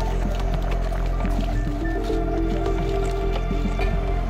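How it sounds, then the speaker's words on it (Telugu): Thick yogurt and ginger-garlic paste marinade is stirred with capsicum and onion pieces for paneer tikka, producing continuous wet squishing and squelching close by, with some background hum. "ఇప్పుడు మొత్తాన్ని మిక్స్ చేసుకుందాం."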